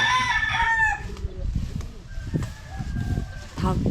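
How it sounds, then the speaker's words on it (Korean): Roosters crow and chickens cluck in a residential village lane in the Philippines, the crowing loud and near at the start, with more birds calling intermittently alongside faint background voices and street noise. "닭이 엄청 많고"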